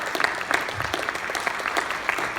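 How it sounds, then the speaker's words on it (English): A Lake County Liberty Coalition gathering applauds standing Vietnam veterans on Vietnam Veterans Day, a brief burst of brisk crowd clapping from a modest room, with distinct close claps over a fuller, steady patter. "I think we owe these people a round of applause."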